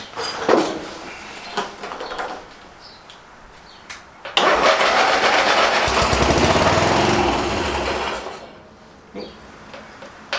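A ride-on mower's petrol engine cranks and catches, first a few short bursts and thumps, then a loud sustained running roar for about four seconds before it dies back down and cuts out.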